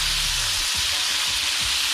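Duck breasts and bacon frying together in a pan, giving a steady close hiss and sizzle with a few soft low knocks of the pan and food being moved, no voices.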